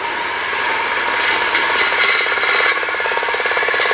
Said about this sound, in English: Here's the one owned by John from New Hampshire, known as a putt-putt, a gift from his wife